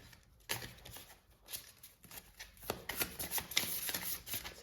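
Tarot cards are shuffled and drawn by hand, soft quiet riffling and flicking in a few bursts, with one card sliding out near the end.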